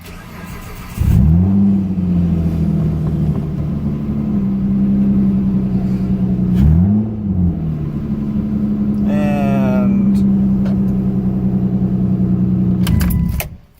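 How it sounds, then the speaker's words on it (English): A car is started close by after a keys jingle. The engine catches, blips in a quick rev a few seconds later, then idles steadily and shuts off near the end. "Let's go ahead and start the car"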